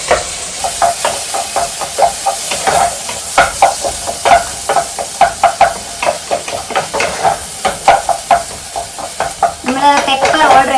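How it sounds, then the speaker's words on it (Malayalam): Egg, sugar, sauce and pepper are stirred together in a hot pan, with a soft sizzle under rhythmic, repeated scraping strokes of a utensil, each stroke a distinct close pulse, and a burst of voices near the end. "ദെൻ നമുക്ക് നമ്മുടെ എഗ് ആഡ് ചെയ്തു. ജസ്റ്റ് ഒന്ന് മിക്സ് ചെയ്യട്ടെ."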